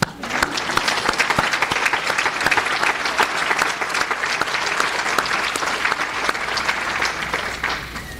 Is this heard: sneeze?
no